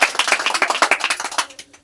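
A crowd claps for the team captain at a kabaddi match in Gaighata, a short burst of dense, rapid applause that tapers off after about a second and a half.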